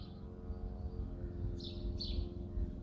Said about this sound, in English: all we can hear at the moment is the birds and a lawnmower